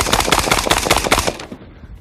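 AR-15 rifle gunfire on a shooting range: a rapid string of about a dozen loud, sharp shots in quick rhythm, stopping abruptly and leaving a fading echo.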